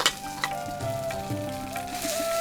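Chhana, a fresh cottage cheese, sizzles steadily in hot ghee for sandesh, a crackling fry that stays even and close throughout with a few soft stirring knocks.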